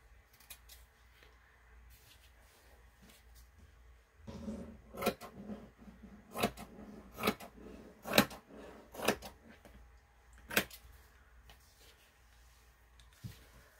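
Scissors snip through paper while trimming a junk journal page, a string of sharp close cuts in an uneven rhythm, with quieter rustling and handling in between.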